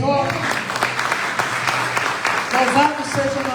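A church congregation claps for the Lord in a dense, steady patter that fills the room, with a preacher's voice speaking over it toward the end.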